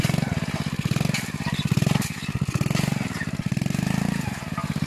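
A motorcycle engine runs close by with a steady, throbbing rumble, while people talk over it.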